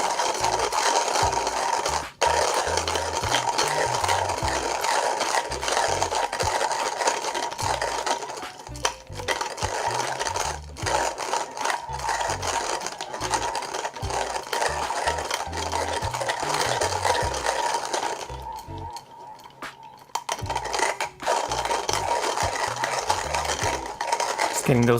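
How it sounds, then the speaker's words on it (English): Coffee beans being ground by hand in a manual grinder: a steady, continuous gritty crunching and rasping that carries on for most of the stretch, broken by a brief pause near the end. "Pretty easy to grind beans."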